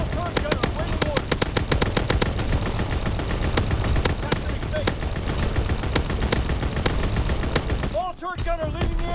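Anti-aircraft gunfire in a video game, a dense sustained salvo of rapid loud shots that runs almost the whole time, then breaks off near the end into a brief quieter stretch with a short voice.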